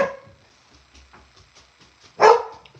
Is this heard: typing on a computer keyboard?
no